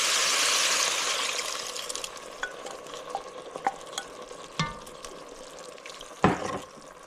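Onion soup mix water poured into a hot pot-roast pan, a steady loud sizzle and steamy hiss that eases off, with a few scrapes and clinks of a utensil against the pan near the end.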